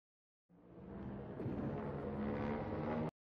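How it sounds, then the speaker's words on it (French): A helicopter sound effect plays as a dense, steady rotor-and-engine rumble that starts abruptly, builds slightly, and cuts off after about two and a half seconds. "Ça, c'est un hélicoptère."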